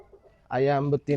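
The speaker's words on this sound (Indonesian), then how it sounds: "Di sini juga ada ayam betina" A hen of the Sumatran red junglefowl line gives a drawn-out, warbling cluck followed by a shorter call, close and fairly loud over a quiet background.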